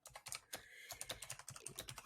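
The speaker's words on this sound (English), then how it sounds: "I love the mechanical keyboard. It sounds like a sound effect." Typing on an old mechanical keyboard: quick, irregular clacky keystrokes in a close, clear burst, each press a sharp click, heard alone without talk.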